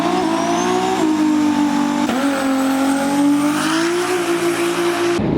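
A turbocharged 2JZ-powered Lexus IS300 drag car at Texas Motorplex roars loudly and steadily through a hard run, the engine note rising continuously with brief shift dips, up close and alone.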